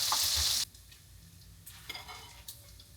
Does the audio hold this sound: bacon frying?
yes